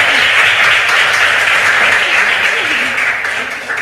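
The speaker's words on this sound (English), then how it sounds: "Let's give ourselves a very big round of applause." An audience at the JSMQ 2025 regional qualifiers, a Western Region science and maths quiz contest, gives a steady, dense round of applause that fades slightly toward the end, with no talk over it.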